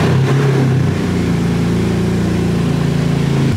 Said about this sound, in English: Palimo ga da čujemo zajedno